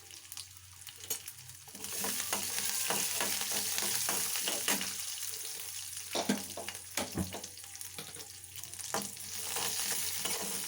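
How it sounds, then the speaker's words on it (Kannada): Ginger, cinnamon, cloves and cardamom sizzle steadily in a hot pan of oil over low heat for a Kannada potato-chickpea sambar, with a soft, continuous crackle and occasional stirring scrapes. "ಇದು ಫ್ರೈ ಆಯ್ತಾ ಇದ್ದಾಗೇ ನೋಡಿ, ಇದಕ್ಕೆ ಫ್ರೈ ಆಗ್ತಾ ಇದೆ."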